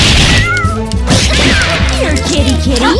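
Cartoonish cat meows and yowls from the Skullgirls fighting game, several rising and falling cries over busy game music and hit effects, loud and close.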